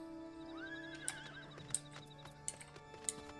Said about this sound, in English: I have the horse!